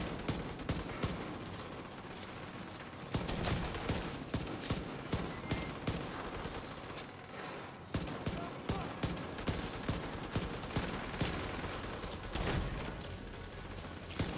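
Gunfire rattles through a Division 2 battle against a heavily armoured enemy, with sustained automatic bursts and rhythmic repeated shots over a dense, noisy backdrop of combat effects.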